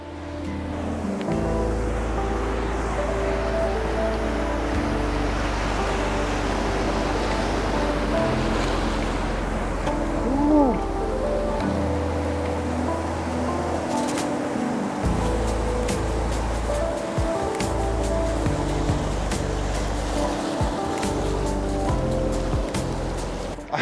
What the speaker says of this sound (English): It seems the tide is coming in and it might be coming in a little bit faster than I'd hoped